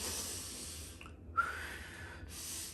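A woman in labour breathes steadily through contractions, with slow, close, controlled inhales and exhales, including one sharp audible breath, over a soft background hiss and no talk.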